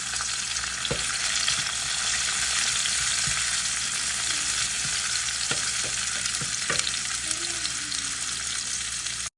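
Onion sautéing in a hot pan for a home-cooked ampalaya dish, a loud steady sizzle throughout with several sharp utensil clicks and scrapes against the pan, close up and without talk.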